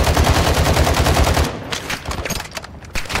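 Gunfire in the Call of Duty DMZ video game: a loud rapid burst of shots for about a second and a half, then scattered sharper cracks and impacts, including a sniper, in the fight.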